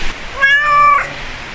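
A small cat at a campsite lets out a single loud, close, drawn-out meow lasting about half a second, set against quiet background noise.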